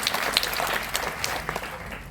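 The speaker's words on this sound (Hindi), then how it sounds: "मैं चाहूंगा एक बार जोरदार तालियां" Audience applause at a leadership programme event, a short steady patter of many hands clapping at moderate distance, with no talk over it.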